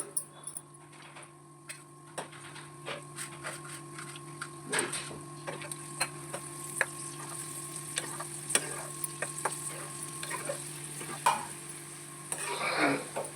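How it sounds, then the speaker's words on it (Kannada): Cashews and raisins frying in oil for egg biryani: a faint, steady sizzle with scattered ticks and small pops, a low hum underneath, no voices. "ಅದೇ ಎಣ್ಣೆಗೆ ಗೇರ್ ಬೀಜ ದ್ರಾಕ್ಷಿ ಹಾಕಿ ಹುರಿದು ತೆಗೆದಿಟ್ಕೊಳ್ಳಿ"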